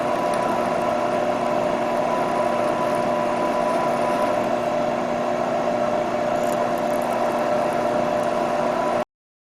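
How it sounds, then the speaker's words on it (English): A clockwise drill working out a stuck chuck gives a steady, loud, continuous motor whine that holds unchanged for about nine seconds, then cuts off abruptly. "drilling with a clockwise drill could unscrew it"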